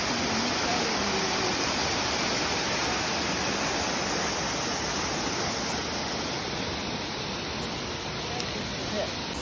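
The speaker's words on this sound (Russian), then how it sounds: "Прекрасный водопад." A waterfall in Abkhazia's Yupshara Canyon roars steadily, a dense, loud wash of rushing water falling from height that stays constant throughout with no pauses.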